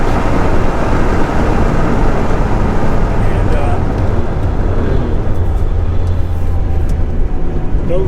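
A 1983 Porsche 911 SC Targa cruises through sweeping bends near 80 mph, heard from inside as a loud, steady road and wind roar with an engine drone underneath, with someone talking over it.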